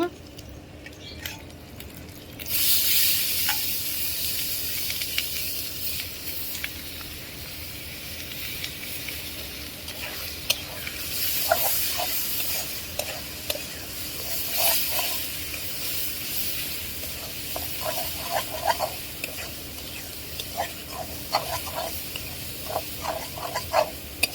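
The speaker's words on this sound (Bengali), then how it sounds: "দেশি চিংড়ি মাছটা দিয়ে দিব" Local shrimp seasoned with turmeric, chili and coriander hit hot oil with a sudden loud hiss that settles into a steady, close sizzle dotted with small pops and crackles, with no talking.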